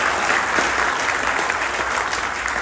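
An audience at a Hindi poetry gathering applauds steadily, dense clapping from many hands at moderate volume, continuous with no voices.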